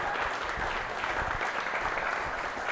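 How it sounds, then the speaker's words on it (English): A comedy show crowd applauds the performers and guests, a steady patter of many hands with some low rumble underneath, continuous and fairly loud for its short length. "can you guys give a round of applause for all the performers tonight"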